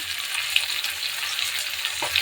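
Chopped tomato and green chili frying in a pan, a constant close sizzle with occasional soft scrapes of stirring and no talk.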